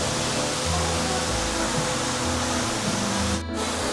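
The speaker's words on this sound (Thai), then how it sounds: "มีน้ำตกอยู่ในคาเฟ่" Waterfall pouring inside a mountainside cafe, a steady, loud broadband rush of falling water that continues unbroken throughout with no voices.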